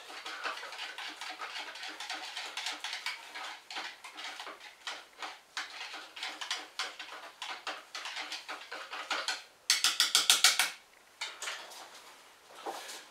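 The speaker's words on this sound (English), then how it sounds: "I'll take the whisk and stir it a bit." Whisk stirring yeast and warm water in a bowl, a run of rapid light ticking strokes, fairly close and steady, ending in a brief louder scraping burst.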